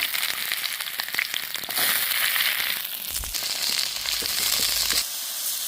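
Eggplant fries in hot oil at an outdoor cooking spot, a close, loud crackling sizzle with bursts of popping and scraping that swell and ease over a few seconds.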